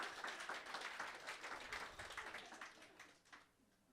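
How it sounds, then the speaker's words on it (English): Scattered clapping from a small audience at a spoken word evening, a steady patter that thins out and fades toward the end. "give yourself a round of applause for being in the building"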